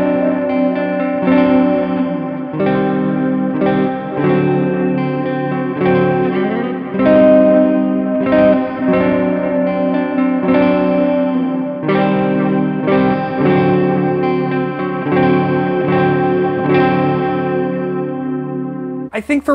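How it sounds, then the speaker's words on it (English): Electric guitar played through the clean twin reverb amp model of a Sonicake Matribox multi-effects unit, strummed chords and picked notes ringing with reverb, steady and fairly loud, ending with a brief noise. "Let's actually go in and change the amp up here to a clean amp."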